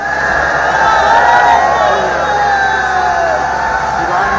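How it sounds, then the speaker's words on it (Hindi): A large crowd of devotees roars and chants in praise of Mahadev as a huge Shivling is installed, a loud, continuous mass of overlapping voices and shouts filling the space throughout. "जैसे ही शिवलिंग को स्थापित किया गया, वहां महादेव की जय जयकार गूंज उठी।"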